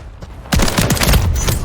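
Dense burst of gunfire in Call of Duty: Modern Warfare 3 team deathmatch on the Stash House map, loud rapid shots starting after a brief quiet, with a voice calling out faintly beneath.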